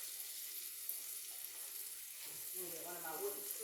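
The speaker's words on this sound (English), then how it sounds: "I got butter sizzling." Butter and minced garlic sizzle quietly in a pan, a faint steady fry that grows slightly louder toward the end, with no talking.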